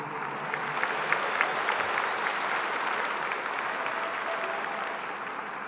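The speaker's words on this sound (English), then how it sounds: "Please join me in giving a round of applause for our band" A large audience at a 2017 high school graduation ceremony gives the school band a dense, steady round of clapping that holds throughout without talk.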